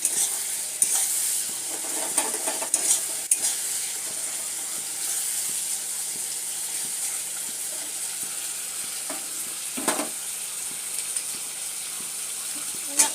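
Potatoes and spices fry in oil for an egg curry, a steady close sizzle with occasional stirring scrapes and clinks against the pan throughout.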